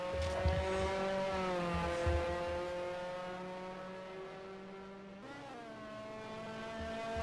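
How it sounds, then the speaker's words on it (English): Formula Ford race cars from 1973 lapping the Brands Hatch circuit, a steady high engine drone that swells and shifts pitch as cars pass, continuous with no talk. "we've got a few cars doing laps"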